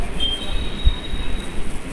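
Train wheels squeal in a thin, steady high whine over a dense rumble as a passenger train slows into Gudivada junction, with a single soft knock partway through.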